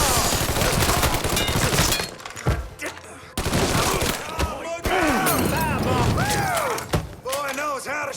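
Rapid bursts of gunfire crack out in a Mafia 3 video game shootout, with sharp shattering impacts and a fiery Molotov blast. Shots come loud and close in clustered volleys separated by brief gaps, while voices shout over the fight.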